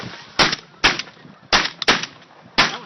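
Five loud shotgun blasts ring out close by during a goose hunt, fired in quick uneven succession over about three seconds, each with a short sharp decay.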